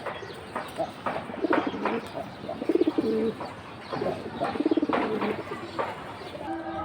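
Domestic pigeons of Bengali fancy breeds such as Giribaz, Silver and Bagha coo repeatedly in a loft, with layered throaty calls close by, some wing movement and soft chirps between them.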